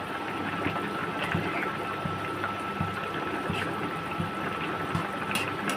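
Four pieces of rohu fish simmering in curry gravy in a pan, a steady soft bubbling and sizzling texture throughout, fairly quiet with no talking.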